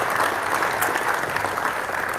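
An audience at an athletic awards night fills the room with steady, dense applause, many hands clapping together in an even wash of sound that holds for the whole stretch.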